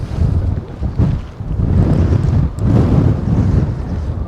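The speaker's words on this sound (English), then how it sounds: "So even though we've got lots of wind here, it's even more windy up the top there." Strong gusty wind buffeting the microphone on sea cliffs by the ocean, loud rushing blasts rising and falling with no voices.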